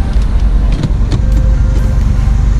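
BMW 1 Series E88 118i M Sport convertible pulling away, a low, steady engine rumble close by with light road noise and no talk.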